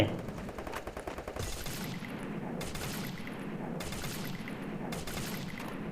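Rapid gunfire from a shooter video game as bots are hunted down, dense bursts of automatic shots repeating throughout, loud and close with no talk over it.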